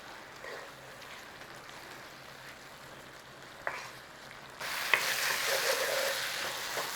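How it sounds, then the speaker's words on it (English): Tomatoes cooking down in a pan for a British sausage pie filling, a soft simmering sizzle with occasional stirring scrapes, turning louder and hissier near the end, close with no talk. "Just keep giving it a stir. We don't want to burn anything, obviously. And just keep cooking it down."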